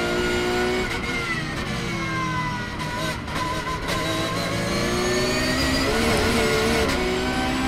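Race cars, including an AMG, at the 24-hour Nürburgring race, engines roaring loud and continuous, pitch climbing and dropping through gear changes as they run close together.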